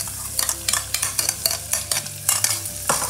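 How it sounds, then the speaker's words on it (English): Finely diced onion frying in a pan while being stirred, with a continuous close sizzle broken by regular scraping strokes about every third of a second, no voices. "We will cook this for about 2 to 3 minutes. So the onions are sweating off."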